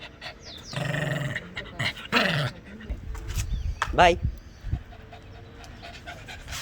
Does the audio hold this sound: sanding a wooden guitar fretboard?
no